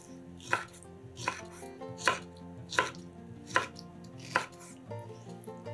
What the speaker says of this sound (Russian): Берем банку консервированных ананасов кружочками и нарезаем их небольшими кубиками.